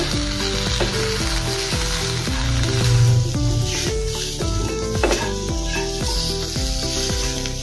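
Sliced tomato and onion stirred and fried together in a pan for dahi pyaz ki sabzi, a steady close sizzle with stirring under strong background music, no talking.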